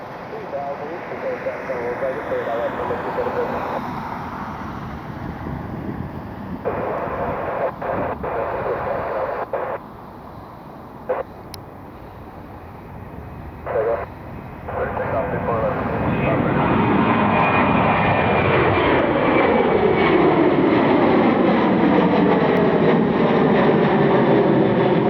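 A commercial airliner at Cleveland airport approaching to land on runway 24 right, its engine roar swelling from a distant rumble to a loud, steady whine over the last seconds, with someone speaking intermittently over the first half.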